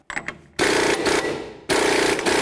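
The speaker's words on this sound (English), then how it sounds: "Next, we're going to remove our 36mm axle nut." Bursts of rapid mechanical rattling hammer away as a power tool breaks loose the 36mm axle nut on a 1999-2007 Chevy Silverado front wheel hub, two loud close runs separated by a short pause.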